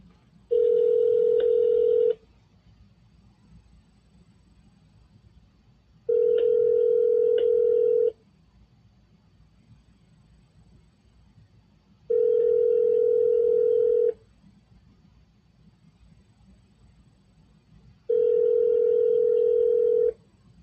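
A landline telephone rings repeatedly through the earpiece, four evenly spaced two-second ring bursts separated by quiet pauses, with no talk.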